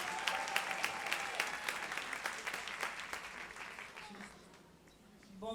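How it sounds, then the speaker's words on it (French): An audience at a Montreal show breaks into steady applause, dense crowd clapping that lasts several seconds before thinning out near the end. "Sous vos applaudissements, s'il vous plaît."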